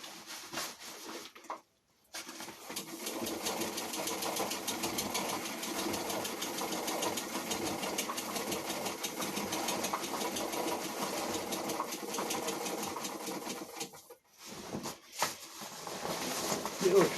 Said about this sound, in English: Back to the treadle though.